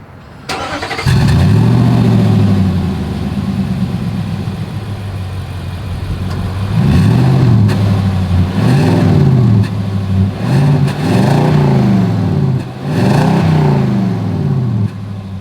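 A 2024 Nissan Titan SV pickup truck's exhaust, loud and close, with the engine starting and idling, then several strong revving surges rising and falling, with no talk.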